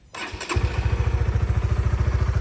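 A Honda RS motorcycle engine starts with a brief crank, then settles into a loud, steady, rhythmic idle chug close by.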